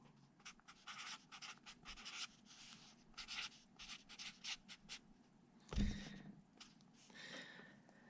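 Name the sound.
pencil sketching lightly on paper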